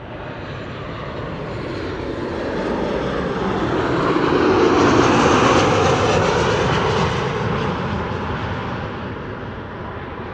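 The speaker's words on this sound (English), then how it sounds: "TAP Air Portugal A320neo arriving from Lisbon is now flying in the vicinity of Leiden and is also coming this way" A TAP Air Portugal Airbus A320neo jet airliner arriving at Amsterdam Schiphol, its engine roar building steadily to a loud peak near the middle and then easing off, heard alone without voices.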